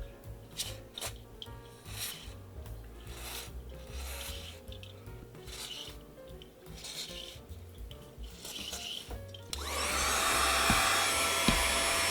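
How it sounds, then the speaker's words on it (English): Contact cleaner is sprayed onto the contacts of a PlayStation 1 during a repair. Scrubbing and rubbing noises come first, then a loud, steady aerosol hiss fills the last few seconds. "we'll spritz the contacts with a little bit of the contact cleaner"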